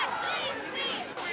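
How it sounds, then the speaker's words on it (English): Protest crowd in Donetsk with many voices shouting and chanting together, a dense, loud, continuous roar of agitated people close by throughout. "Right now we're hearing people saying fascist, fascist"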